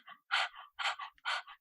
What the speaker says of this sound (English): like panting like a dog, like this.